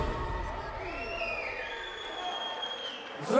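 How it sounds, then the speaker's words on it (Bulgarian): An audience claps and cheers at a wedding hall show on a Valentine's Day evening. The applause is fairly faint and sustained, and an amplified announcer's voice sweeps over it. "Аплодисменти за Мерито!"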